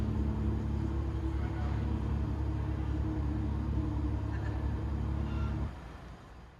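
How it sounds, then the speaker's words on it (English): An electric car's artificial growl, switched on in drive or reverse, plays as a low, steady, humming drone. The drone holds evenly for several seconds, then cuts off abruptly near the end, leaving quiet. "this car has its own growl when it's switched into either drive or reverse"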